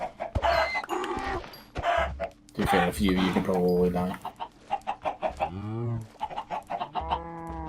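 Chickens in a video game cluck and squawk in short repeated bursts, interleaved with someone talking over them.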